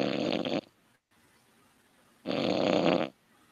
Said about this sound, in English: snoring is putting me off